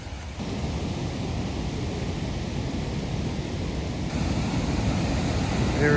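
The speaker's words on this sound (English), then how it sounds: "This is just the Cedar Rapids below it. Oh, I can hear it." The Cedar Rapids river in Northern Saskatchewan rushes below in a steady, broad roar of whitewater that holds at a constant loudness throughout.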